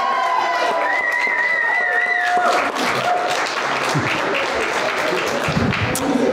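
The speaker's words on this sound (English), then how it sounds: "A little round of applause for the bride." Wedding guests applaud the bride in a steady, full round of clapping and cheering that fills the room, with a few voices calling out over it near the start.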